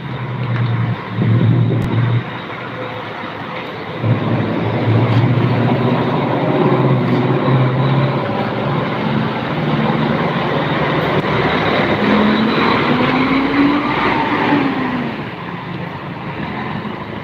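A Mercedes-chassis intercity coach in Indonesia drives past, its engine rumbling loud and close, swelling and shifting pitch as it moves by, with steady road noise and no talking.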